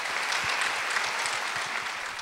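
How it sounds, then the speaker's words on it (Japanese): An audience at a stage greeting for director Sion Sono's film Cold Fish gives a brief burst of steady, even applause, close and continuous. "どうぞ皆さん拍手をお迎えください。"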